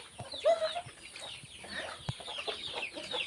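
Chickens clucking and squawking close by, several overlapping calls in quick succession.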